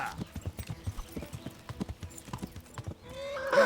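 A horse gallops in the medieval video game Kingdom Come Deliverance, with steady rhythmic hoof clip-clops close and clear, followed at the end by a sharp neigh.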